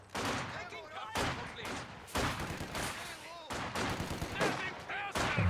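Machine gun fire in the World War II strategy game Company of Heroes 2 plays as repeated bursts of rapid gunfire at moderate loudness, separated by short gaps, with occasional commentary voice underneath.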